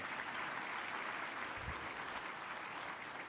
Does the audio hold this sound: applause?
yes